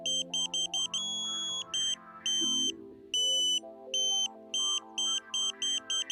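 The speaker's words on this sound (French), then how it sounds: "vérifiez également que la tonalité continue" Repeated high electronic beeps in short bursts and longer held tones from a KA-SAT satellite antenna pointing tool during alignment, loud and regular with gaps, over a steady low hum and some faint music-like tones beneath.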